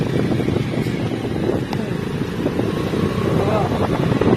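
A two-wheeler motor vehicle is ridden slowly along the road, its engine droning steadily under heavy wind rush, with a voice talking over it.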